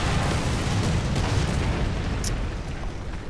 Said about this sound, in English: the artillery shell again sends shrapnel into the main body of the tank, detonates my ammo rack